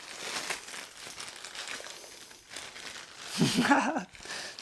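Plastic packaging being pulled off a Commencal Supreme DH V5 downhill bike, soft intermittent crinkling that builds into a louder burst of crumpling and tearing near the end.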